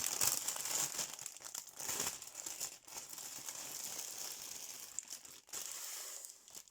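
A cross-stitch kit package is unwrapped up close, its plastic crinkling and crumpling in quiet, irregular bursts with a brief tearing sound and short pauses.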